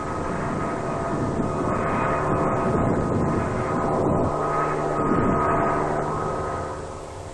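A military strike aircraft flies over a target area in Vietnam, its engine a steady loud drone that swells and fades slightly as it passes, heard alone.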